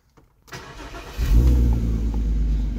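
A Volkswagen Golf R32 4Motion engine cranks after a short silence, catches and settles into a loud, steady idle close by, with no one speaking.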